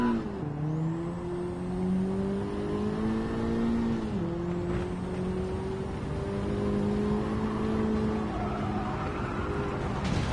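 A stock, untuned Honda Civic road car driven around the Nürburgring in Gran Turismo 7, its engine a continuous buzzing drone that climbs in pitch, dips briefly at a gear change, then climbs again under steady tyre and road noise.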